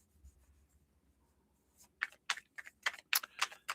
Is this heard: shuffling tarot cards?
yes